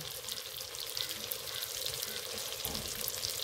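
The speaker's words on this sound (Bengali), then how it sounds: "এবার ভালো করে আলুগুলো ভেজে নেব।" Boiled potatoes frying in a pan with salt and a little turmeric for an egg and soyabean curry, giving a steady bright sizzle with faint scraping of stirring throughout.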